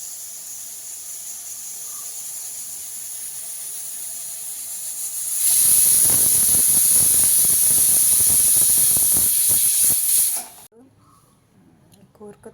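A stovetop pressure cooker cooking koorka (Chinese potato) hisses softly, then bursts into a loud, sustained jet of venting steam for about five seconds before cutting off abruptly to near silence.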